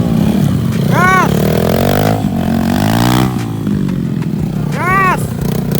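A motocross bike on a free ride in San Jose, Tarlac revs hard and close, its engine note sweeping up and down through several throttle blips, with a shout heard over the roar.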